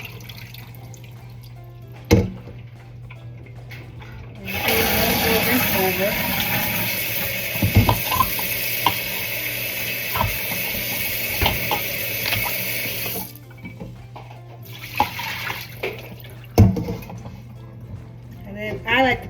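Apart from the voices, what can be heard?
water being dumped out of a pot of soaking brisket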